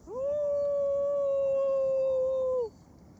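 A jackal gives a single long, steady, pure-toned howl lasting over two seconds. It stands alone against a quiet background and cuts off cleanly at the end.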